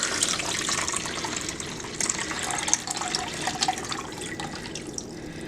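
Water runs from a tap into a container during cold process soap making with calendula and tea, a steady splashing trickle with a few drips, close and moderately loud, with no talk.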